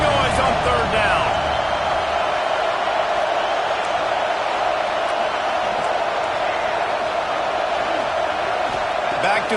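Football stadium crowd roaring loudly on third down, a dense and continuous wall of cheering noise with a commentator talking over it.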